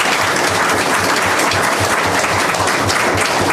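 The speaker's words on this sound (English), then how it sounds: "So give a hand to the educators." An audience at a school board meeting applauds educators, loud dense clapping close by that runs without a break.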